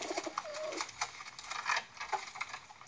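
Old Polish pigeons cooing in a loft, several soft repeated coos close by with light fluttering and tapping sounds around them.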